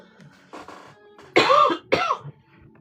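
A person coughs a few times close by, with two louder, harsh coughs near the end after some softer throat noises.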